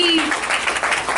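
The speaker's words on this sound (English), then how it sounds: "So let's give her a loud round of applause." An audience applauds at a poetry night, steady clapping from a crowd heard at moderate distance, with a voice speaking over it at the start.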